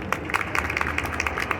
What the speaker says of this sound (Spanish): Un aplauso para don Ignacio.